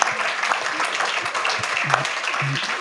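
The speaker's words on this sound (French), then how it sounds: "Et un applaudissement à Alexandre Dezerbe." Audience applause for Alexandre Dezerbe at a Praticalingua 2019 debate, a steady wash of clapping throughout with some voices and low murmurs mixed in.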